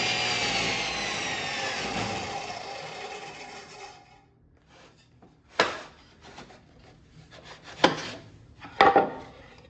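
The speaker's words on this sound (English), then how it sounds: "Make sure we get the saw kerf on the correct side here, and then let's do the first half of the cut" A handsaw cuts a kerf in wood while a child's step stool is being built: steady, continuous sawing for about four seconds, then quiet with a few sharp knocks and bursts of handling.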